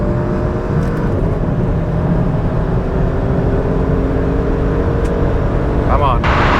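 A Porsche SUV launches hard in launch mode, engine roaring steadily and close under an excited voice, with a brief whine rising near the end.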